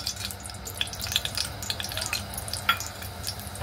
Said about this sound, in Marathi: आता याच्यामध्ये आपण हा खडा मसाला टाकूया